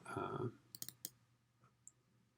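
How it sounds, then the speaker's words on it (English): A computer mouse gives several sharp, quiet clicks, including quick pairs like double clicks, after a brief burst of noise at the start, in an otherwise quiet room. "I'm just double clicking on that."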